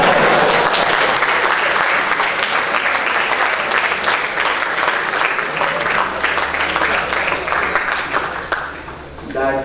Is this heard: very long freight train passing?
no